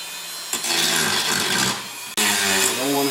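Rough JB Weld is sanded off a Bakelite part of a Philco 64 radio under restoration, with close, loud, scratchy back-and-forth strokes, a brief pause near the end and then more rubbing.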